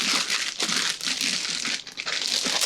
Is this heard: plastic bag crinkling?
yes